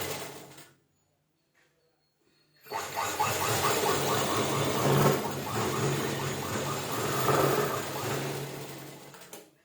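Sewing machine stitching a hook strip on a lined blouse, a few soft mechanical sounds, a short quiet gap, then a steady whirring run of needle strokes lasting several seconds.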